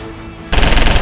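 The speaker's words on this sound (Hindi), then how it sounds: "सुलेम सराय में जीटी रोड पर राजूपाल की गाड़ी को घेरकर गोलियों की बौछार कर दी गई।" A sudden, loud burst of rapid automatic gunfire erupts after a quiet moment, the shots rattling in quick succession as a convoy vehicle is attacked.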